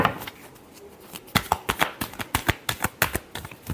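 Tarot deck being shuffled by hand, a quick run of crisp riffling flicks and slaps in an irregular rhythm, close and quiet with no talking.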